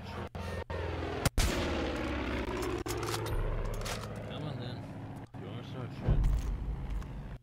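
Gunfire from the video game Far Cry 5, with sharp shots and booming blasts recurring through a continuous loud battle mix, along with heavier thuds near the end.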